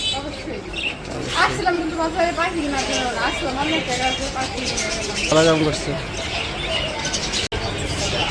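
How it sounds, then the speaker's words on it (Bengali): Two pet birds, a male and a female, chirp in quick bright bursts close by, running under near-constant family talk indoors. "তো এই যে আমাদের পাখি দুটোটা হয়ে গেছে।"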